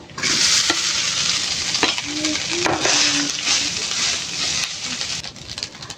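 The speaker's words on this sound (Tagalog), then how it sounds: "Sa pinagprituhan guys ng itlog, magsasangag naman ako" Fried rice stir-fried in oil left over from frying eggs crackles in a loud, continuous sizzle, with stirring and light clinks of the utensil against the pan.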